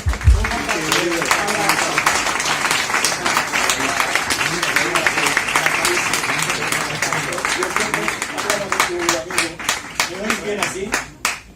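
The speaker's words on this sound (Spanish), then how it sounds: "Un aplauso." Sustained audience applause at a book presentation in Spain, dense and steady clapping from a seated crowd that thins toward the end, with voices mixed in underneath.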